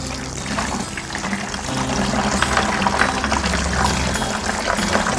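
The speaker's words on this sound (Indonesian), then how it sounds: "Kita cuci pada air yang mengalir ini, biar bibit ungunya rontok ya." Purple leaves rinse under a running tap, the water streaming loud and steady with splashing and trickling as the leaves are turned in the flow, no talking over it.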